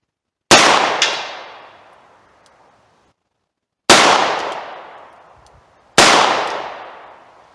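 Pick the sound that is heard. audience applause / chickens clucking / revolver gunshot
revolver gunshot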